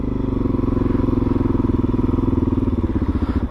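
A 2019 SWM Gran Milano 440 motorcycle thumps along while riding, its single-cylinder engine producing a loud, steady, rapid pulsing throb close to the listener throughout.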